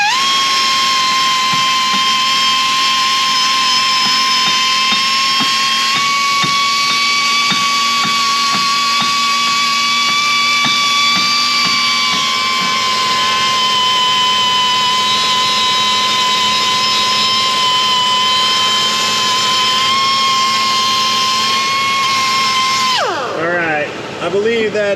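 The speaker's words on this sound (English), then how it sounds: "Go ahead and polish this rust off of this mating surface here." A zip wheel grinds rust off a brake mating surface on a rusted 2011 Kia Sorento, a loud, steady high-pitched whine held for about twenty-three seconds before spinning down at the end.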